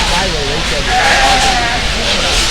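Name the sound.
sheep bleating at a livestock show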